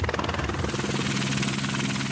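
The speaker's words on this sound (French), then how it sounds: "Il y a l'hélico qui arrive, là." A helicopter approaches at a remote polar research site. Its rotor gives a loud, steady, rapid thumping throb with engine whine, filling the whole stretch with no other sound.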